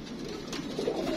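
A domestic pigeon gives a short, soft coo, faint and close, with no voices over it.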